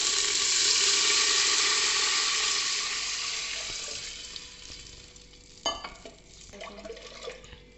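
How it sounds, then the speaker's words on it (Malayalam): Water poured into a hot pan of fried garlic, ginger and onion sets off a loud, rushing hiss that gradually dies down, followed by a sharp clank and a few scraping stirs. "കുറച്ച് വെള്ളം ഒഴിച്ച് കൊടുക്കാം"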